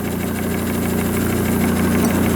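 An old number 9 engine, driven off a generator and recently repaired for a governor leak, runs at a steady, fairly quick idle, loud and close, with a continuous low mechanical hum and faint knocking.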